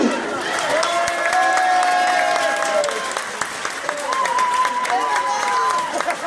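A crowd applauds and cheers at a shrimp peeling world championship by the North Sea in Leffrinckoucke, steady clapping throughout with voices calling and talking over it.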